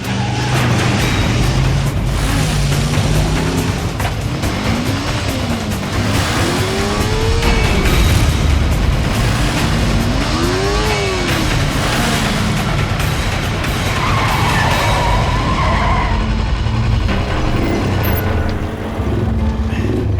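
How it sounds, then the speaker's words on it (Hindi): A truck races along a road, its engine roaring continuously and loudly, with rising and falling pitch sweeps as it speeds past. The roar runs without a break for about twenty seconds. "ये ट्रक क्यों इतनी तेजी से जा रहा है?"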